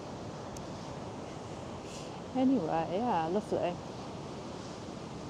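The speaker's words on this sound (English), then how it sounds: "Waves are still hammering the shore." Sea surf washes onto the shore at Gorleston on Sea as a steady broad rushing roar throughout, with someone speaking briefly over it midway.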